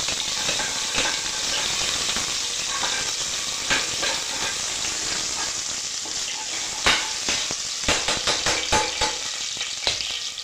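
Ginger garlic paste frying in hot oil, a loud continuous sizzle and hiss with sharp spattering crackles growing more frequent toward the end, no voices.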